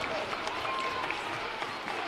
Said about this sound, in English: one more round of applause for your HCC State Champion cheerleaders